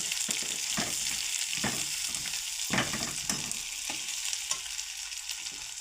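Onions sizzle steadily in a hot pan while a utensil scrapes and stirs in irregular strokes, close and fairly loud.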